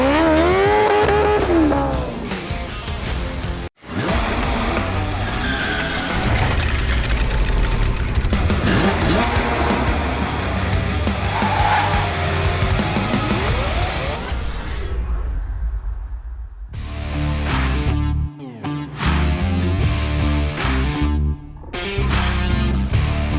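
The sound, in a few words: Honda S660 Turbo car doing wheel spin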